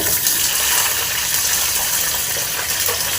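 Water poured from a vessel into a pan holding cut raw mango, a loud continuous gushing splash close by, steady throughout with no talking.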